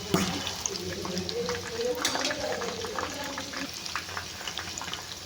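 Spicy chicken pakodi frying in hot oil in a home kitchen, giving a steady close crackling sizzle with scattered pops throughout, while a person talks over it.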